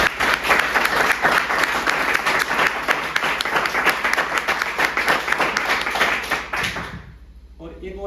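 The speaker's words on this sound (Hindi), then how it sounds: "तो ये तो हेमंत के लिए तालियां थी, बजा लो" An audience gives a dense, sustained round of clapping for a person named Hemant at a motivational talk, then tapers off near the end.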